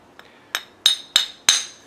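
A hammer taps damaged propshaft flange nuts with five sharp metallic strikes, rising from a faint first tap to loud ringing clinks at regular intervals, close and alone.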